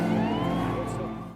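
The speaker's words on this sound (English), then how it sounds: "Oh no, that's the ambulance." An ambulance siren from a TV show, its wailing tone sweeping steadily under overlapping talk and background sound, loud and sustained throughout.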